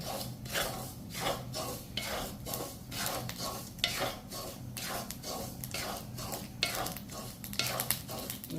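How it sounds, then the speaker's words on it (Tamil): Mustard seeds sizzle, crackle and pop close up in hot oil while a utensil stirs in rhythmic scraping strokes, with a faint whisper of voice. "கடுகு வெடித்து பறக்கும்"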